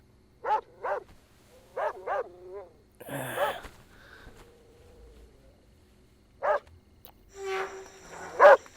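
A dog in a Hindi dubbed South Indian movie barks in two quick pairs of sharp, near barks. A clatter and quieter sounds follow, and one more loud bark comes near the end.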